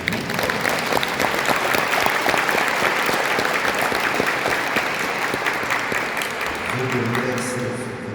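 Sustained applause fills a school hall during a commemorative ceremony, a dense, steady patter of many hands lasting several seconds before tapering as a voice begins speaking near the end.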